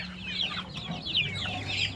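Large chickens in a wire-mesh enclosure on a poultry farm give repeated soft clucks and short squawks, close by, over a low steady hum.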